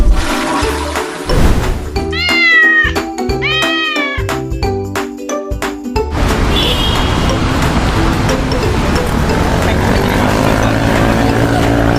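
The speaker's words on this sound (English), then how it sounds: "Come here, you damn cat." A small kitten meows several times in quick drawn-out cries, loud and close, followed by a steady rushing background noise like running water or traffic; no speech is heard.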